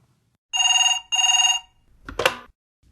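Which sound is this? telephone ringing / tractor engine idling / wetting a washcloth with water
telephone ringing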